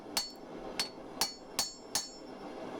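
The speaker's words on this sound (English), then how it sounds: "I use the hot chisel to cut it off" Five evenly spaced sharp metallic hammer blows ring out as a hot chisel cuts through steel during blacksmith forging of a sgian dubh knife, close and clear with a faint ringing tail.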